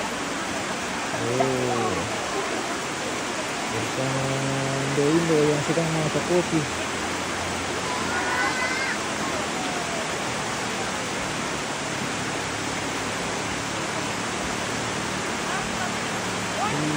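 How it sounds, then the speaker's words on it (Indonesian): Heavy rain pours down steadily in Bate, a dense, continuous wash of noise throughout, with a voice talking over it near the start. "Kita dilanda hujan ini."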